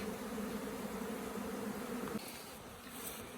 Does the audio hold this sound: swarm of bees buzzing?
yes